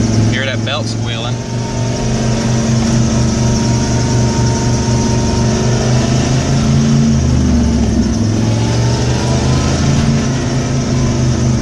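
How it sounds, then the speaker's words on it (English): A loud, steady engine running on a 1995 Ford F150 with a bad alternator, its belt giving a sustained high squeal over the low drone, heard up close with some talk. "Hear that belt squealing."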